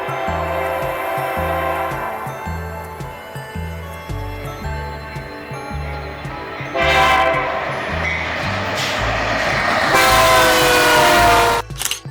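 A freight train rumbles along the tracks, its wheels clacking in a steady rhythm, and a loud horn sounds twice as it draws near, in a Central Kansas rail setting.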